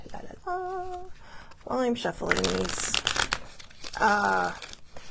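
A deck of cards being shuffled in quick riffling bursts, close by, with some tonal music playing at the same time.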